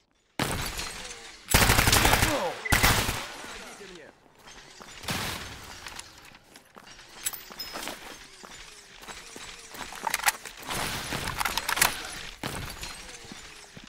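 Gunfire in the STALKER GAMMA video game: bursts of shots and explosive cracks at irregular intervals, some loud and close, others more distant, with a busy battle backdrop.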